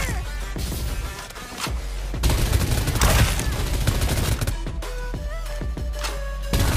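Gunfire in the Farlight 84 battle-royale video game during an out-of-zone fight: loud, repeated bursts of automatic weapon fire with sharp individual shots, some close and some further off, continuing across the whole stretch.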